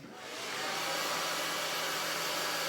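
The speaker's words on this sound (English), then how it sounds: "then I'm gonna take my blow dryer" Handheld hair blow dryer switching on and running steadily, a loud continuous broadband whoosh that swells in the first half second and then holds even, close by, with no talking.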